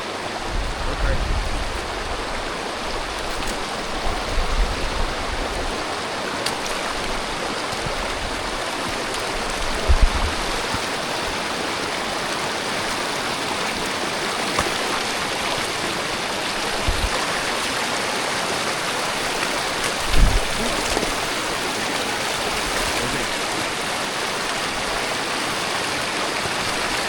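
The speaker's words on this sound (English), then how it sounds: "Ready to cross the river?" A river stream rushes steadily and loudly close by, a dense continuous wash of flowing water with occasional thumps, lasting the whole stretch without talk.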